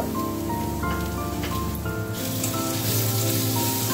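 Ginger garlic paste sizzling in a pan with fried onions, a continuous crackling hiss that stays even and close throughout, no one speaking.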